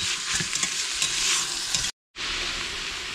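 Onions sauté in a pan for Kerala-style mutton biryani, a steady close sizzle with stirring scrapes, broken by a brief cut of silence before the frying resumes.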